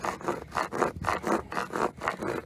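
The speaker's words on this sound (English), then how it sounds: "instead of just using sandpaper and everything, these files work pretty good" Hand file strokes rasping across a Corvette C3 dashboard part during restoration, a steady back-and-forth rhythm of about nine close, even scrapes with no talking.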